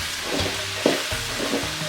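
Turmeric and chili powder are stirred in a hot frying pan while making vangibath, a steady oily sizzle broken by soft scraping strokes of the spoon.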